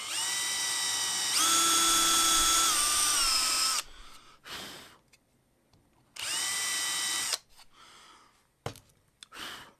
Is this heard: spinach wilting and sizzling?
no